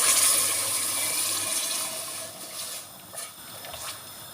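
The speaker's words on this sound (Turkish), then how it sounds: "Şimdi sıcak suyunu döküyorum arkadaşlar." Hot water poured onto roasted lentils in a pot for lentil soup, a loud gushing splash at first that tapers into softer trickling and bubbling, with no talking.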